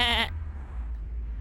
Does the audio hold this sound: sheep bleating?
yes